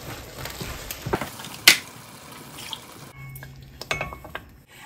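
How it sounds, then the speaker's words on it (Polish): A sauce jar rinsed with a little water in a home kitchen while cooking spaghetti with minced meat, with close splashing and trickling, a sharp clink of glass and scattered small knocks. "Ja jeszcze troszeczkę opłuczę ten słoik. Dam troszeczkę wody."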